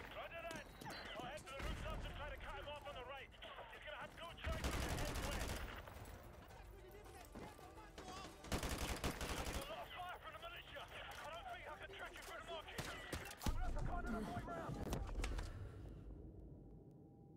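Militia gunfire in Modern Warfare 2 Remastered comes as several loud bursts of rapid automatic shots between stretches of quieter battle noise, with someone talking over much of it.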